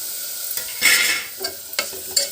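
Chicken sizzles in hot oil in a pan while being stirred, with several loud scraping and crackling bursts between quieter sizzling, heard close up with no voices.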